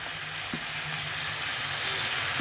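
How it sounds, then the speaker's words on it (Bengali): Large prawns drop into a hot pan of curry with simmering potatoes and flat beans, and a steady, loud broadband sizzle continues throughout with a few faint scrapes and no talking. "এবার দিয়ে দিচ্ছি চিংড়ি মাছগুলো।"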